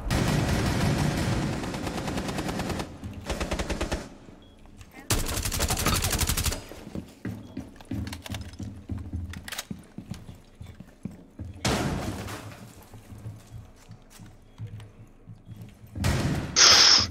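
Video game gunfire comes in loud dense bursts at the start and again around 5 to 6 seconds and 12 seconds, with quieter scattered shots and thumps between and a final burst at the end.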